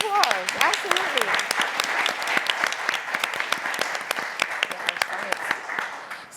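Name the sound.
audience applause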